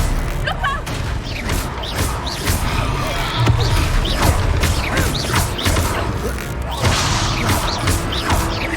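Busy Hogwarts Legacy combat surrounds an Expelliarmus spell: repeated thuds, whooshes and crashing impacts over a steady low rumble, with a brief burst of game dialogue mixed in.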